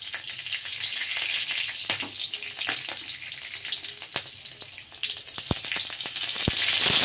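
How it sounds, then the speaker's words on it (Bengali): Nigella seeds and slit green chillies are tempered in hot mustard oil, giving a dense, continuous crackling sizzle scattered with sharp pops and spits, close and loud, with no talking. "কালো জিরে, কাঁচা লঙ্কা চেরা ফোড়নে দিলাম"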